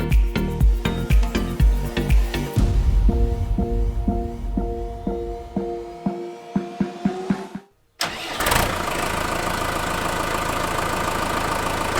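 A car engine cranks with rapid stuttering turns, catches and settles into a steady mid-pitched idle after an oil and filter change, with a brief cut near the end before the idle resumes.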